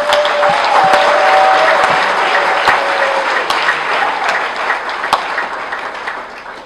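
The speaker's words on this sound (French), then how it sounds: "Je vous invite à applaudir cette population de Kisangani." A crowd at a political congress in Kisangani breaks into loud, sustained applause, a dense roar of clapping with a few sharper individual claps, tapering slightly toward the end.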